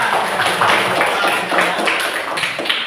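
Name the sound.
classroom clapping by children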